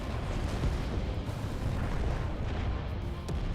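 Fireworks-like detonator blast in Final Fantasy XIV, a dense rolling rumble of overlapping booms and crackles that fills several seconds at steady loudness, with no talking.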